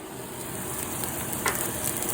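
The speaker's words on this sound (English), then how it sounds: "now we're sauteing up these veggies a little bit" Vegetables sauteing in a fair amount of oil in a pan, a steady soft sizzle with faint stirring, close and continuous, with no voices.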